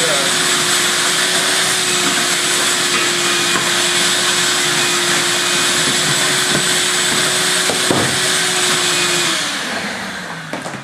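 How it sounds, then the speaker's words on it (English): A vacuum cleaner runs with a loud, steady whine and roar, then winds down near the end. "now that you have it out, you can take a vacuum cleaner"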